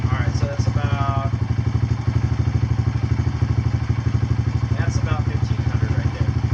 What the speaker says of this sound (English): That's usually what dirt bikes or singles run at, 1500 RPM.